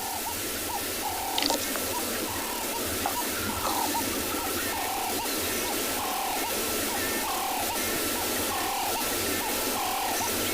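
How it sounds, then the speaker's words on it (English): Birds call at dusk on a sunset safari at Tswalu, with guinea fowl among them: a repeating series of calls rises above a dense, steady chorus of wildlife and evening ambience. "All you hear all type of birds communicating, such as a guinea fowl."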